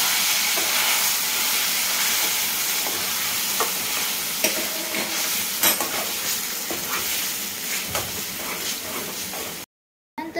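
Vari rice (barnyard millet) sautéing in a pan gives a steady close sizzle and hiss, with faint stirring scrapes, until a short break near the end.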